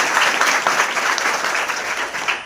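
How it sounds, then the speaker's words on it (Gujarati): A crowd at a school event claps steadily, a warm burst of applause welcoming guests that continues without pause. "આપણે સૌ તાળીઓથી વધાવી લઈશું આવેલા મહેમાનશ્રીઓને"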